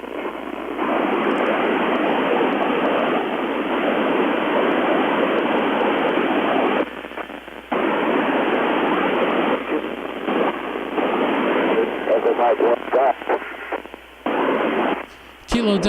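Jammer interference on a ham radio frequency: a loud, continuous band-limited noise fills the channel for several seconds, broken by brief dropouts, with chopped fragments near the end.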